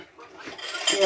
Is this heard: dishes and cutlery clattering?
yes